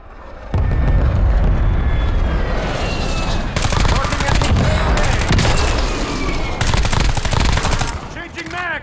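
Heavy gunfire and a grenade explosion in a tactical shooter video game, with loud, sustained machine-gun bursts and booms rolling on nearly without pause, close and dense, while voices call out underneath.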